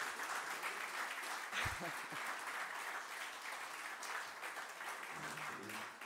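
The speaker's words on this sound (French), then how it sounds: "Je crois qu'on peut vraiment, vraiment saluer ce travail, les applaudir bien fort." Dense, steady applause fills a French district council meeting as the room cheers a group of children, faint and far off, with a few brief voices underneath.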